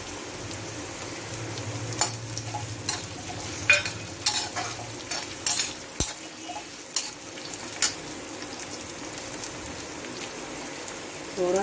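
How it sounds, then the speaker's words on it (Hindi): Diced potatoes for savory vermicelli fry and sizzle in a pan, with a steady crackle under repeated scraping stirs and clinks of a spoon against the pan, close and moderately quiet. "अब हम आलू डालेंगे।"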